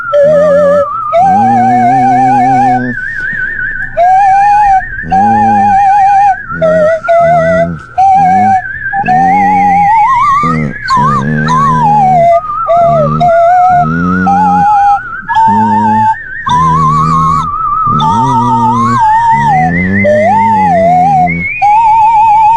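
Several voices howl and whine in a long, wavering, dog-like chorus, loud and near, with sliding pitched wails and short gaps, likely people imitating dogs on a radio broadcast.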